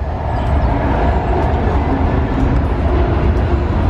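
A train rolls by close at hand, a continuous low rumble and clatter that holds steady throughout, with no voices.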